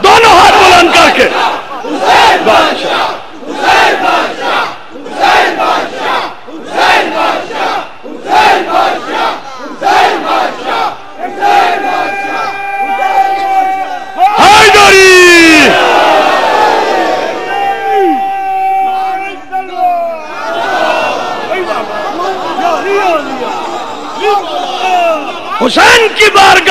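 A large majlis crowd shouts loudly in unison in a string of short, rhythmic bursts, then breaks into a long, sustained roar of massed voices, with a single voice leading between the chants.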